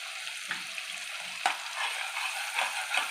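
Turmeric and chili powder sizzling in hot oil in a pan for a Bengali dhokar dalna, a steady close frying hiss with a few soft stirring knocks and no voices.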